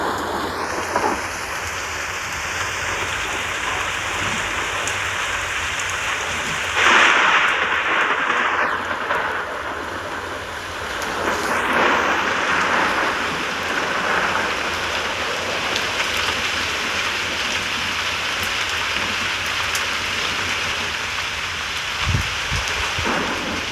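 Heavy rain falls steadily outside, a dense continuous hiss throughout with a brief swell and faint passing whooshes in the middle.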